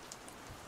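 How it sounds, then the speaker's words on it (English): Rain falls in the horror video game Sweet Dreams, a faint, steady patter with a few sharper drops in a quiet stretch. "It's raining"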